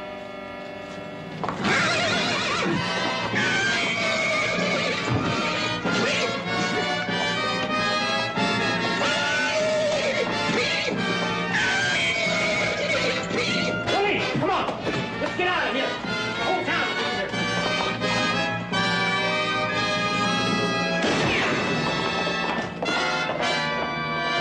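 A horse in a western TV scene neighs loudly, with hooves and scuffling under dense, busy sound. Voices are heard speaking alongside the animal.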